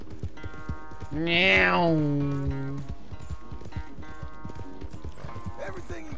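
Rapid clip-clopping hooves of a horse in the video game Red Dead Redemption 2 pound steadily throughout, with a loud whinny rising and falling early on, and a brief spoken word.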